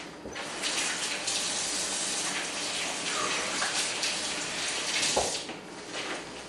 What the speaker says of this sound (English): I'll wash my hands after that.